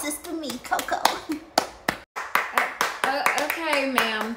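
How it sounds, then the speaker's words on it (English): Several people clap for Sister Coco indoors, a loose run of sharp, close claps and taps, mixed with lively talking. "let's clap it up for Sister Me, Coco"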